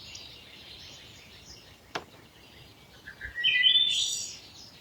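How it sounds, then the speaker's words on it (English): Birds singing outdoors on a spring day, a steady wash of faint high chirps and tweets with a few brighter, louder calls rising near the end. "The birds are singing,"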